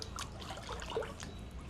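Water trickles and sloshes softly as someone dips down into an Ice Barrel 500 cold plunge tub, a faint, brief liquid movement at close range with no talking.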